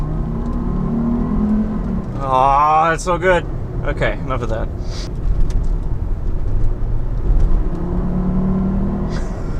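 A 2004 Volvo V70 five-cylinder engine accelerates in traffic, a mid-pitched rising rumble and whir heard from inside the car, with someone talking over and around it.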